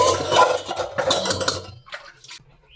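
Pots and dishes clatter and clink while being washed, with water splashing, a few close, sharp knocks over about two seconds before fading.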